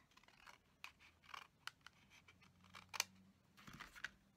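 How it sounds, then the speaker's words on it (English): Trimming the end off a paper gable box with scissors, a quiet close series of crisp snips and rustling paper handling, spaced irregularly. "let me get that right up against that fold line there, and then trim this end off here"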